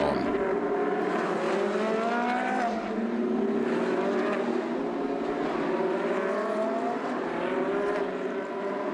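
Race cars roll off on a rolling start at the Sochi circuit in a Pirelli-backed one-make racing series, several engines droning and revving together in a steady, loud pack with rising and falling pitch.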